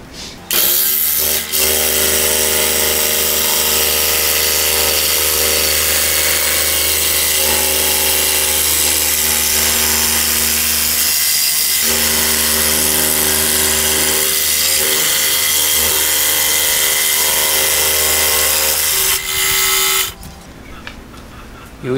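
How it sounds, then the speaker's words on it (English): Steady, loud buzz of a scroll saw cutting through a 4x4 piece of plywood, running continuously for about twenty seconds with a brief dip midway before it stops at the end. "on a scroll saw."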